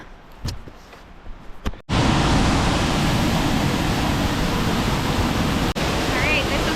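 After a brief quiet moment with a couple of soft knocks, the roar of Long Creek Falls along the Appalachian Trail suddenly fills everything, a loud, steady rushing wash of falling water that continues to the end.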